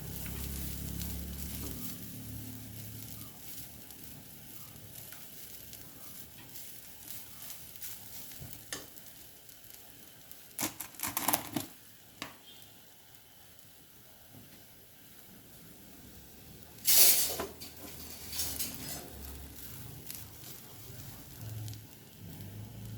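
Date filling roasts with sugar in a pan, giving a soft, steady sizzle under intermittent scraping and stirring, with a few sharper clatters midway and near the end, close but fairly quiet overall.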